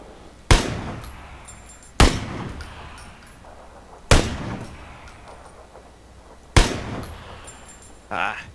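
Gunfire in PLAYERUNKNOWN'S BATTLEGROUNDS: four loud, cracking shots about two seconds apart, each trailing off in a ringing echo, with quieter background noise between them.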